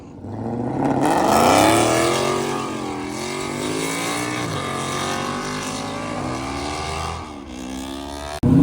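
Loud engines rev and roar steadily as cars drive out of a busy car meet, a continuous throaty drone that swells early and holds, with a sharp burst right at the end.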